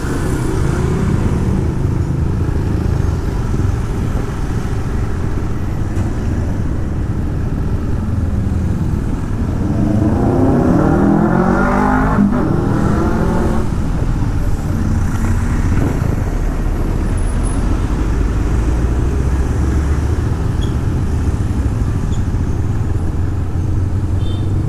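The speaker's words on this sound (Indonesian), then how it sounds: "Macet, bener-bener panjang macetnya nih." Cars and motorbikes creep through a traffic jam on Jalan Raya Canggu in Bali, a steady low rumble of idling and slow-rolling engines, with one nearer bike swelling and passing midway.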